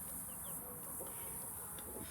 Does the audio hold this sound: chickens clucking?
yes